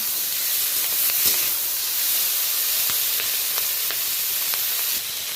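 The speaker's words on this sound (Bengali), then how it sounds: "আমি কিন্তু সব সবজিগুলো ভালো করে ভেজে নিলাম" Vegetables frying in oil give a steady bright sizzling hiss throughout, broken by occasional light ticks from stirring, with no voices.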